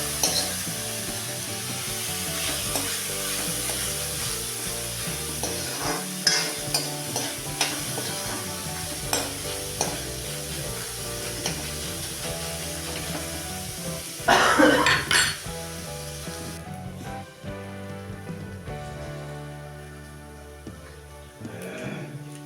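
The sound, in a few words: stirring coriander seeds and soaked chana dal in a pan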